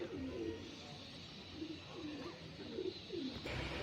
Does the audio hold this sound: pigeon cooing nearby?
yes